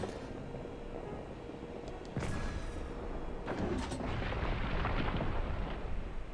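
Cannon blasts in The Legend of Zelda: Breath of the Wild: heavy booming shots, the first at about two seconds and another soon after, followed by a long rumbling crash and debris as a structure collapses.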